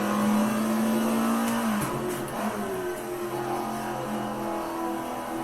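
Alfa Romeo 33 Stradale in third gear in Assetto Corsa, its engine droning loud and steady with a brief dip around a gear change, then continuing to pull without much surge.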